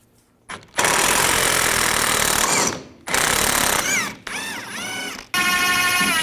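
Impact wrench with an 18mm socket loosening the rear shock bolt on a 2010-2017 Chevrolet Equinox, loud rattling bursts in several runs, the last ones winding down with a whining spin as the bolt backs out.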